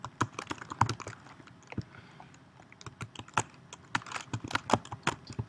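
Close, crisp typing on a computer keyboard, a rapid string of distinct clicking keystrokes that slows briefly mid-way and then picks up again.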